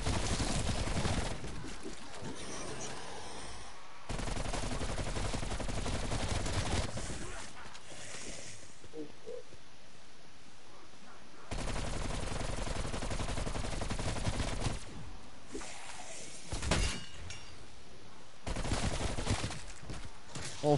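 Automatic sentry gun in Call of Duty Cold War Zombies on Die Maschine, firing in long sustained bursts with short gaps, loud and close, over a dense game soundscape, with a voice talking at times.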